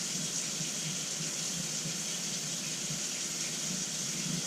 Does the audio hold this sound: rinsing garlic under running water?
yes